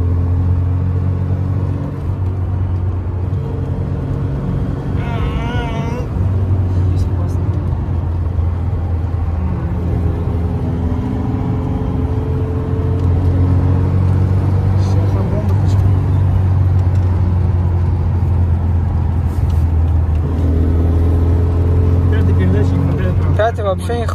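A VAZ 2106 engine pulling hard on the road, a loud low drone rising gradually in pitch over a long run with steady cabin rumble, while people talk inside the car.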